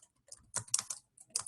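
Python code being typed on a computer keyboard, with bursts of quick, close keystrokes separated by short pauses and no talking.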